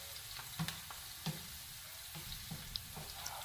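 Greens frying in a pot for a beans-and-corn dish, a quiet continuous sizzle with a few soft scraping stirs spaced out at irregular moments.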